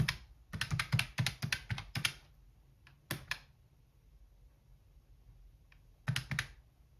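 Numbers are typed on a computer keyboard while working out a monthly zero-based budget: quick bursts of close, crisp key clicks, with a pause in the middle and a final short flurry, with no talking.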